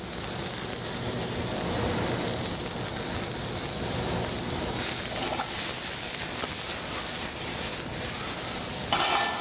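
Chopped mushrooms sizzling in a hot saute pan, a steady close hiss and crackle of frying that holds evenly throughout, with a small clatter at the very end.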